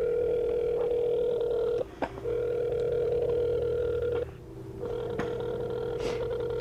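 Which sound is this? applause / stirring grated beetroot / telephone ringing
telephone ringing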